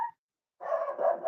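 A dog barks in a wooded lot during a livestream: one short yelp, then a pause, then a longer run of close, loud barking with no talk over it.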